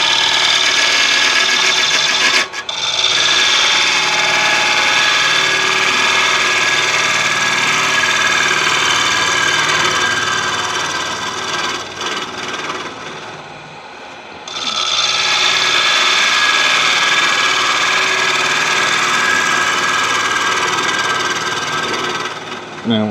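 Woodturning gouge cutting a bowl mounted on a worm screw on a lathe, a steady loud broadband cutting hiss with the lathe's hum beneath, dipping briefly mid-way before resuming.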